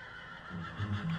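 A horse neighs in the Minecraft video game, a short, fairly close whinny ending in a few stuttering, nasal bursts.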